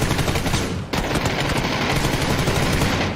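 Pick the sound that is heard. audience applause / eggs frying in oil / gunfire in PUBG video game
gunfire in PUBG video game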